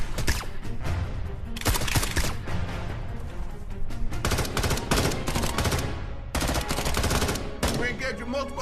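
Rapid bursts of gunfire as soldiers shoot at infected in a movie scene, loud sustained volleys in several waves with brief gaps, dense and close.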